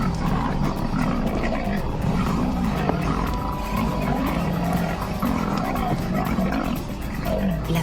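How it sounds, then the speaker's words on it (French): Male leopards fighting, with harsh roars, growls and snarls overlapping continuously at close range, loud and rough throughout. "La femelle léopard a entendu les rugissements et les feulements."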